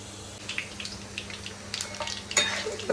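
Tempering for an ivy gourd curry, with dried red chillies and lentils, crackles and spatters in a hot pan. The sizzle is quiet and close, with scattered sharp pops and stirring clinks and no talk.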